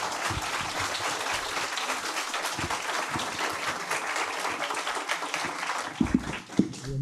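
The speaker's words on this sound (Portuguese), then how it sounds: "eu peço então uma salva de palmas para o professor José Marques de Mello" An auditorium audience at a comics conference applauds Professor José Marques de Melo, sustained, dense clapping that continues evenly for several seconds before a few heavier thumps and stray sounds near the end.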